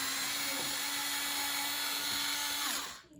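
A cordless power driver whines steadily as it backs screws out of an RC drift car bumper, a high continuous buzz that cuts off at the end.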